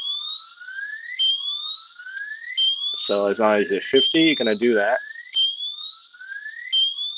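A CarBot robot beeps when its sensor reading reaches 50, giving a steady run of loud, rising electronic chirps about once a second, while someone briefly talks over them in the middle.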